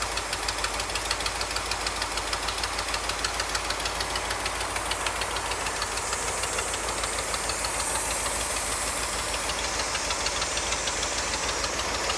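Engine of a 1974 Ford F-350 dually running with a leaking gasket, a loud steady knocking idle with a hissy mechanical rattle, close and continuous.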